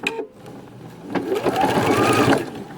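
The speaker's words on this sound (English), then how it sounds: "so now I'm just going to stitch this down" A sewing machine stitches piping fabric onto a quilt, a close, rapid mechanical patter that starts haltingly, then runs steadily and speeds up toward the end.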